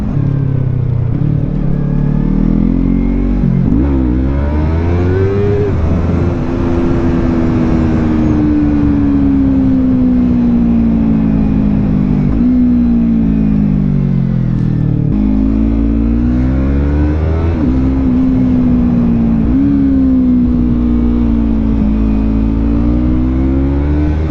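A 2017 Yamaha MT-03 motorcycle revs and accelerates through the gears, its engine rising in pitch, dropping at each shift and climbing again, loud and close throughout with steady wind noise.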